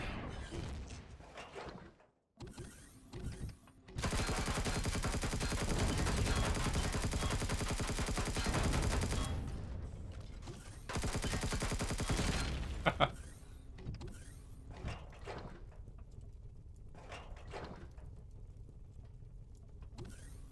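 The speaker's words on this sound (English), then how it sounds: "What are you guys actually firing at?" Rapid automatic gunfire in the space survival game Empyrion Galactic Survival, sustained dense bursts lasting several seconds each, broken by short gaps and followed by quieter scattered shots and mechanical noise.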